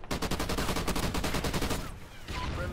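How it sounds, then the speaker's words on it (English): A Kastet grenade launcher fires in the shooter game Ghosts on PS4: a rapid, loud, close string of punchy shots for about two seconds, then a rumbling, explosive tail. "This grenade launcher sucks"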